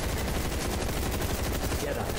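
Cluster salvo overdrive in the video game Exoprimal fires as a dense, continuous barrage of rapid explosive shots, loud and close, with a voice speaking over it.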